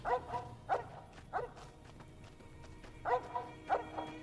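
A dog in Fallout New Vegas barks in sharp, separate yaps, two early pairs and then two more after a pause, heard over low game ambience.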